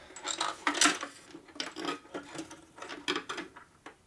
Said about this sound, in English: Alright, so 2 top bolts we put in first